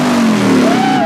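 Classic car with a 6-litre V8 engine revving loudly and close by, a brief rising engine roar with a pitch sweep upward near the end.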